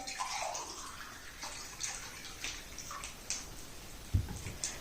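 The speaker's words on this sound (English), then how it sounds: "we will take a glass and fill it completely with water" Water runs and splashes into a glass being filled to the brim, a soft gurgling trickle with scattered drips and a small clink near the end, heard close up with no talking.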